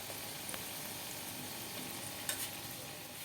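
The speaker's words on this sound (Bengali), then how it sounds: "এবার এই পিঠটা ভাজা হয়ে যাক" Lentil fritters (dal bora) fry in hot oil with a steady, even sizzle and a couple of faint utensil taps, heard close up and with no talking.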